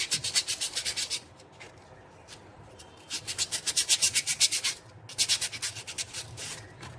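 Rough sandpaper rubs back and forth over a craft piece in quick rhythmic strokes, three bursts of close scratchy sanding separated by brief pauses, no talking.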